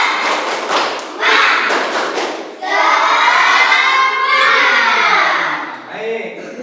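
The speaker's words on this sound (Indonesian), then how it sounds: "tepuk semangat" A school class does a rhythmic spirit clap together, with quick patterned claps at the start followed by the children shouting and chanting in unison, loud and close.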